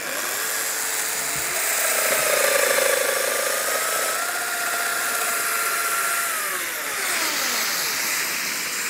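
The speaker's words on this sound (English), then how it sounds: "We put it in position and mill." A router-style cutter whines loudly through wood at a woodworking trade fair, pitch rising and falling as it bites in and eases off, steady and close.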